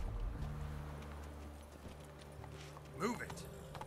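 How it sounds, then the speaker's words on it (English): Horse hooves clip-clop along in The Witcher 3 video game, a steady rhythm of mid-distance steps under a continuous low ambient hum, with a brief louder rustle near the end. "Let's get on the horse."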